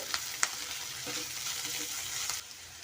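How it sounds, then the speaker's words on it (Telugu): Okra frying in a pan with garlic and coriander, a soft steady sizzle with a few clinks and stirring knocks from a utensil, fairly quiet and close. "ఇప్పుడు ఇందులో కొద్దిగా కొత్తిమీర వేసి మరో రెండు నిమిషాలు ఫ్రై చేయాలి"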